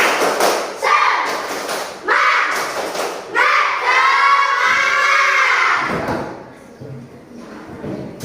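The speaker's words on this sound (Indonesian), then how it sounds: "Tepuk semangat." A class of students joins in the patterned 'tepuk semangat' spirit clap, several quick clap bursts over shouted group chanting before the room quiets to a teacher's voice.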